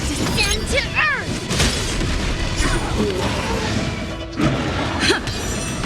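Video game skill explosions boom and crash in quick bursts among whooshing effects, loud and dense from start to finish, with voiced battle cries layered over the din.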